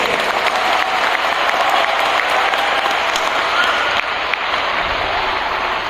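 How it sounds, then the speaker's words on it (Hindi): A large audience breaks into loud, sustained applause at a Hindi kavi sammelan poetry recital, a dense steady roar of clapping that holds for several seconds with no speech over it. "तालियां बजाइए जोरदार"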